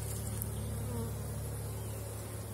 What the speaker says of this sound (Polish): Słońca nie ma we wlotkach, ale i tak ostro oblatują.